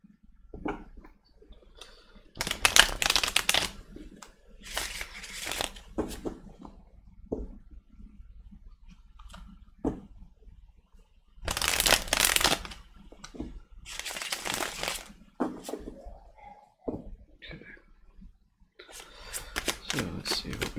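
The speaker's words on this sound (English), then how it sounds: "Three shuffles." Bursts of riffling tarot cards in three clear rounds, each a rapid papery flutter, separated by quieter pauses with light handling noises.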